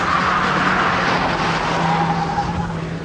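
A 1.8-litre Vectra saloon works hard around a handling test track, its engine droning steadily with a continuous tyre squeal and skidding hiss, close and loud, with no voices.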